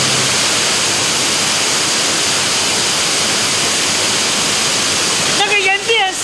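Constant hissing roar of a mountain waterfall in Nantou, close and unbroken, before a voice briefly cuts in over the water just before the end.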